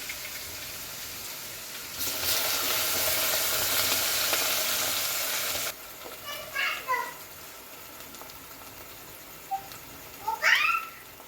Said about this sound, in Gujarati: લસણને નાખીને ભાજીનો છે વઘાર કરી નાખવાનો છે